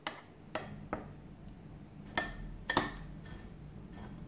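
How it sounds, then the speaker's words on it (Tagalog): Parmesan cheese is stirred into breadcrumbs in a bowl, heard as a few light, scattered clinks of utensil against the bowl over quiet background. "Mix the Parmesan to the breadcrumbs"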